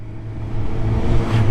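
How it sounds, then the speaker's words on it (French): A scooter passes by on a French road, a steady mid-pitched engine drone that swells slightly and stays close throughout, with no talking. "Non, lui, c'est un scooter, tu vois."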